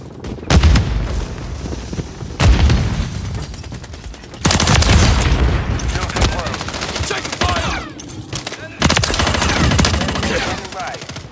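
A Semtex grenade blast in Call of Duty Modern Warfare 3 multiplayer amid heavy, loud gunfire and booming explosions, with repeated bursts and sudden impacts throughout.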